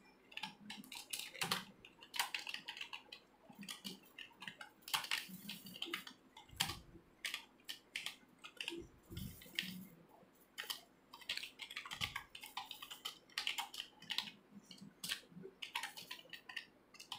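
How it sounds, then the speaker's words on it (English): Someone types a notice on a computer keyboard, a steady faint patter of key clicks running throughout with occasional heavier thumps, no talking. "So here I'm typing the notice."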